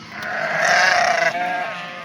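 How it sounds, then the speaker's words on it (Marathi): Sheep in a large flock of around three thousand bleat, several overlapping wavering cries swelling loud and close before tapering off. "किती मेंढर आहेत किती आहेत मेंढर हा तीन हजार"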